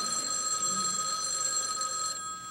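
An old-fashioned telephone bell rings steadily and loudly for the whole stretch, with no voices.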